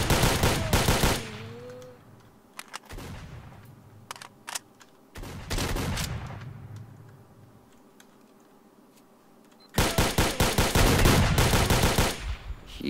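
Gunfire in the video game STALKER: Shadow of Chernobyl during a fight with bandits: loud bursts of rapid shots come in three clusters separated by quieter stretches, with no talk over the shooting.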